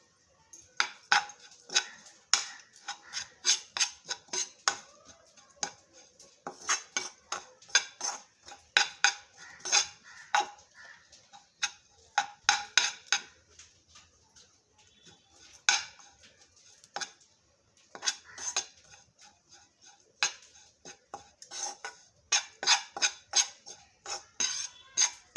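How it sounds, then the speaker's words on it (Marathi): Grated coconut dry-roasting in a metal pan for multigrain laddoos, with a spoon repeatedly scraping and clinking against the pan in irregular bursts of stirring, close and clear, with no talk. "डिंक तळून झाला की खोबरं थोडंसं भाजून घ्यायचंय।"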